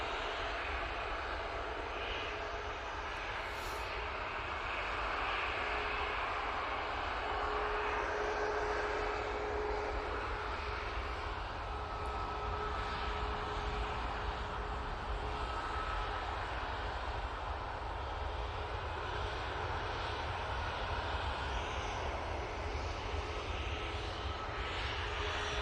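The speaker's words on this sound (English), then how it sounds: "Looks like all the planes are coming down Victor Bravo at the moment." Airplanes land at Manchester Airport, with a continuous loud jet engine roar that stays steady and fairly close across the whole stretch, with no talk.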